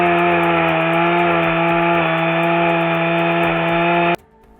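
A modern chainsaw runs at steady high revs for about four seconds during a logging operation in a Canadian forest, loud and close, with a strong even drone before it cuts off sharply near the end.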